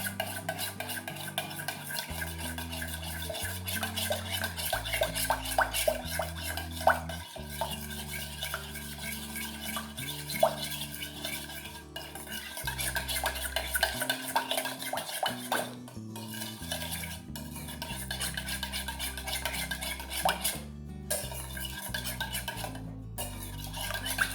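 A spoon stirs and scrapes a chicken-bomb filling mixture in a bowl, with steady, close clinking and rubbing of utensil against dish over a low musical backing, no voices.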